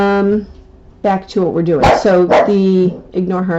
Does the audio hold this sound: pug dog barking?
yes